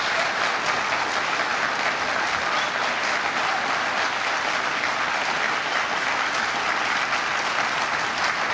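Sustained audience applause fills the hall after a closing statement at the 1984 US vice presidential debate, a dense, even wash of clapping from a large crowd that holds steady throughout.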